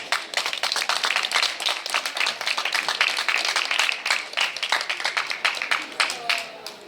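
Audience at a Slovenian award nominee announcement applauds a nominee, a dense, steady wash of many hands clapping close by for about seven seconds, with some talk mixed in.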